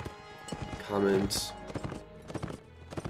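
Horse hooves clip-clop in the Mount and Blade video game, a steady close trot mixed with game noise under someone talking, with a brief whinny-like burst.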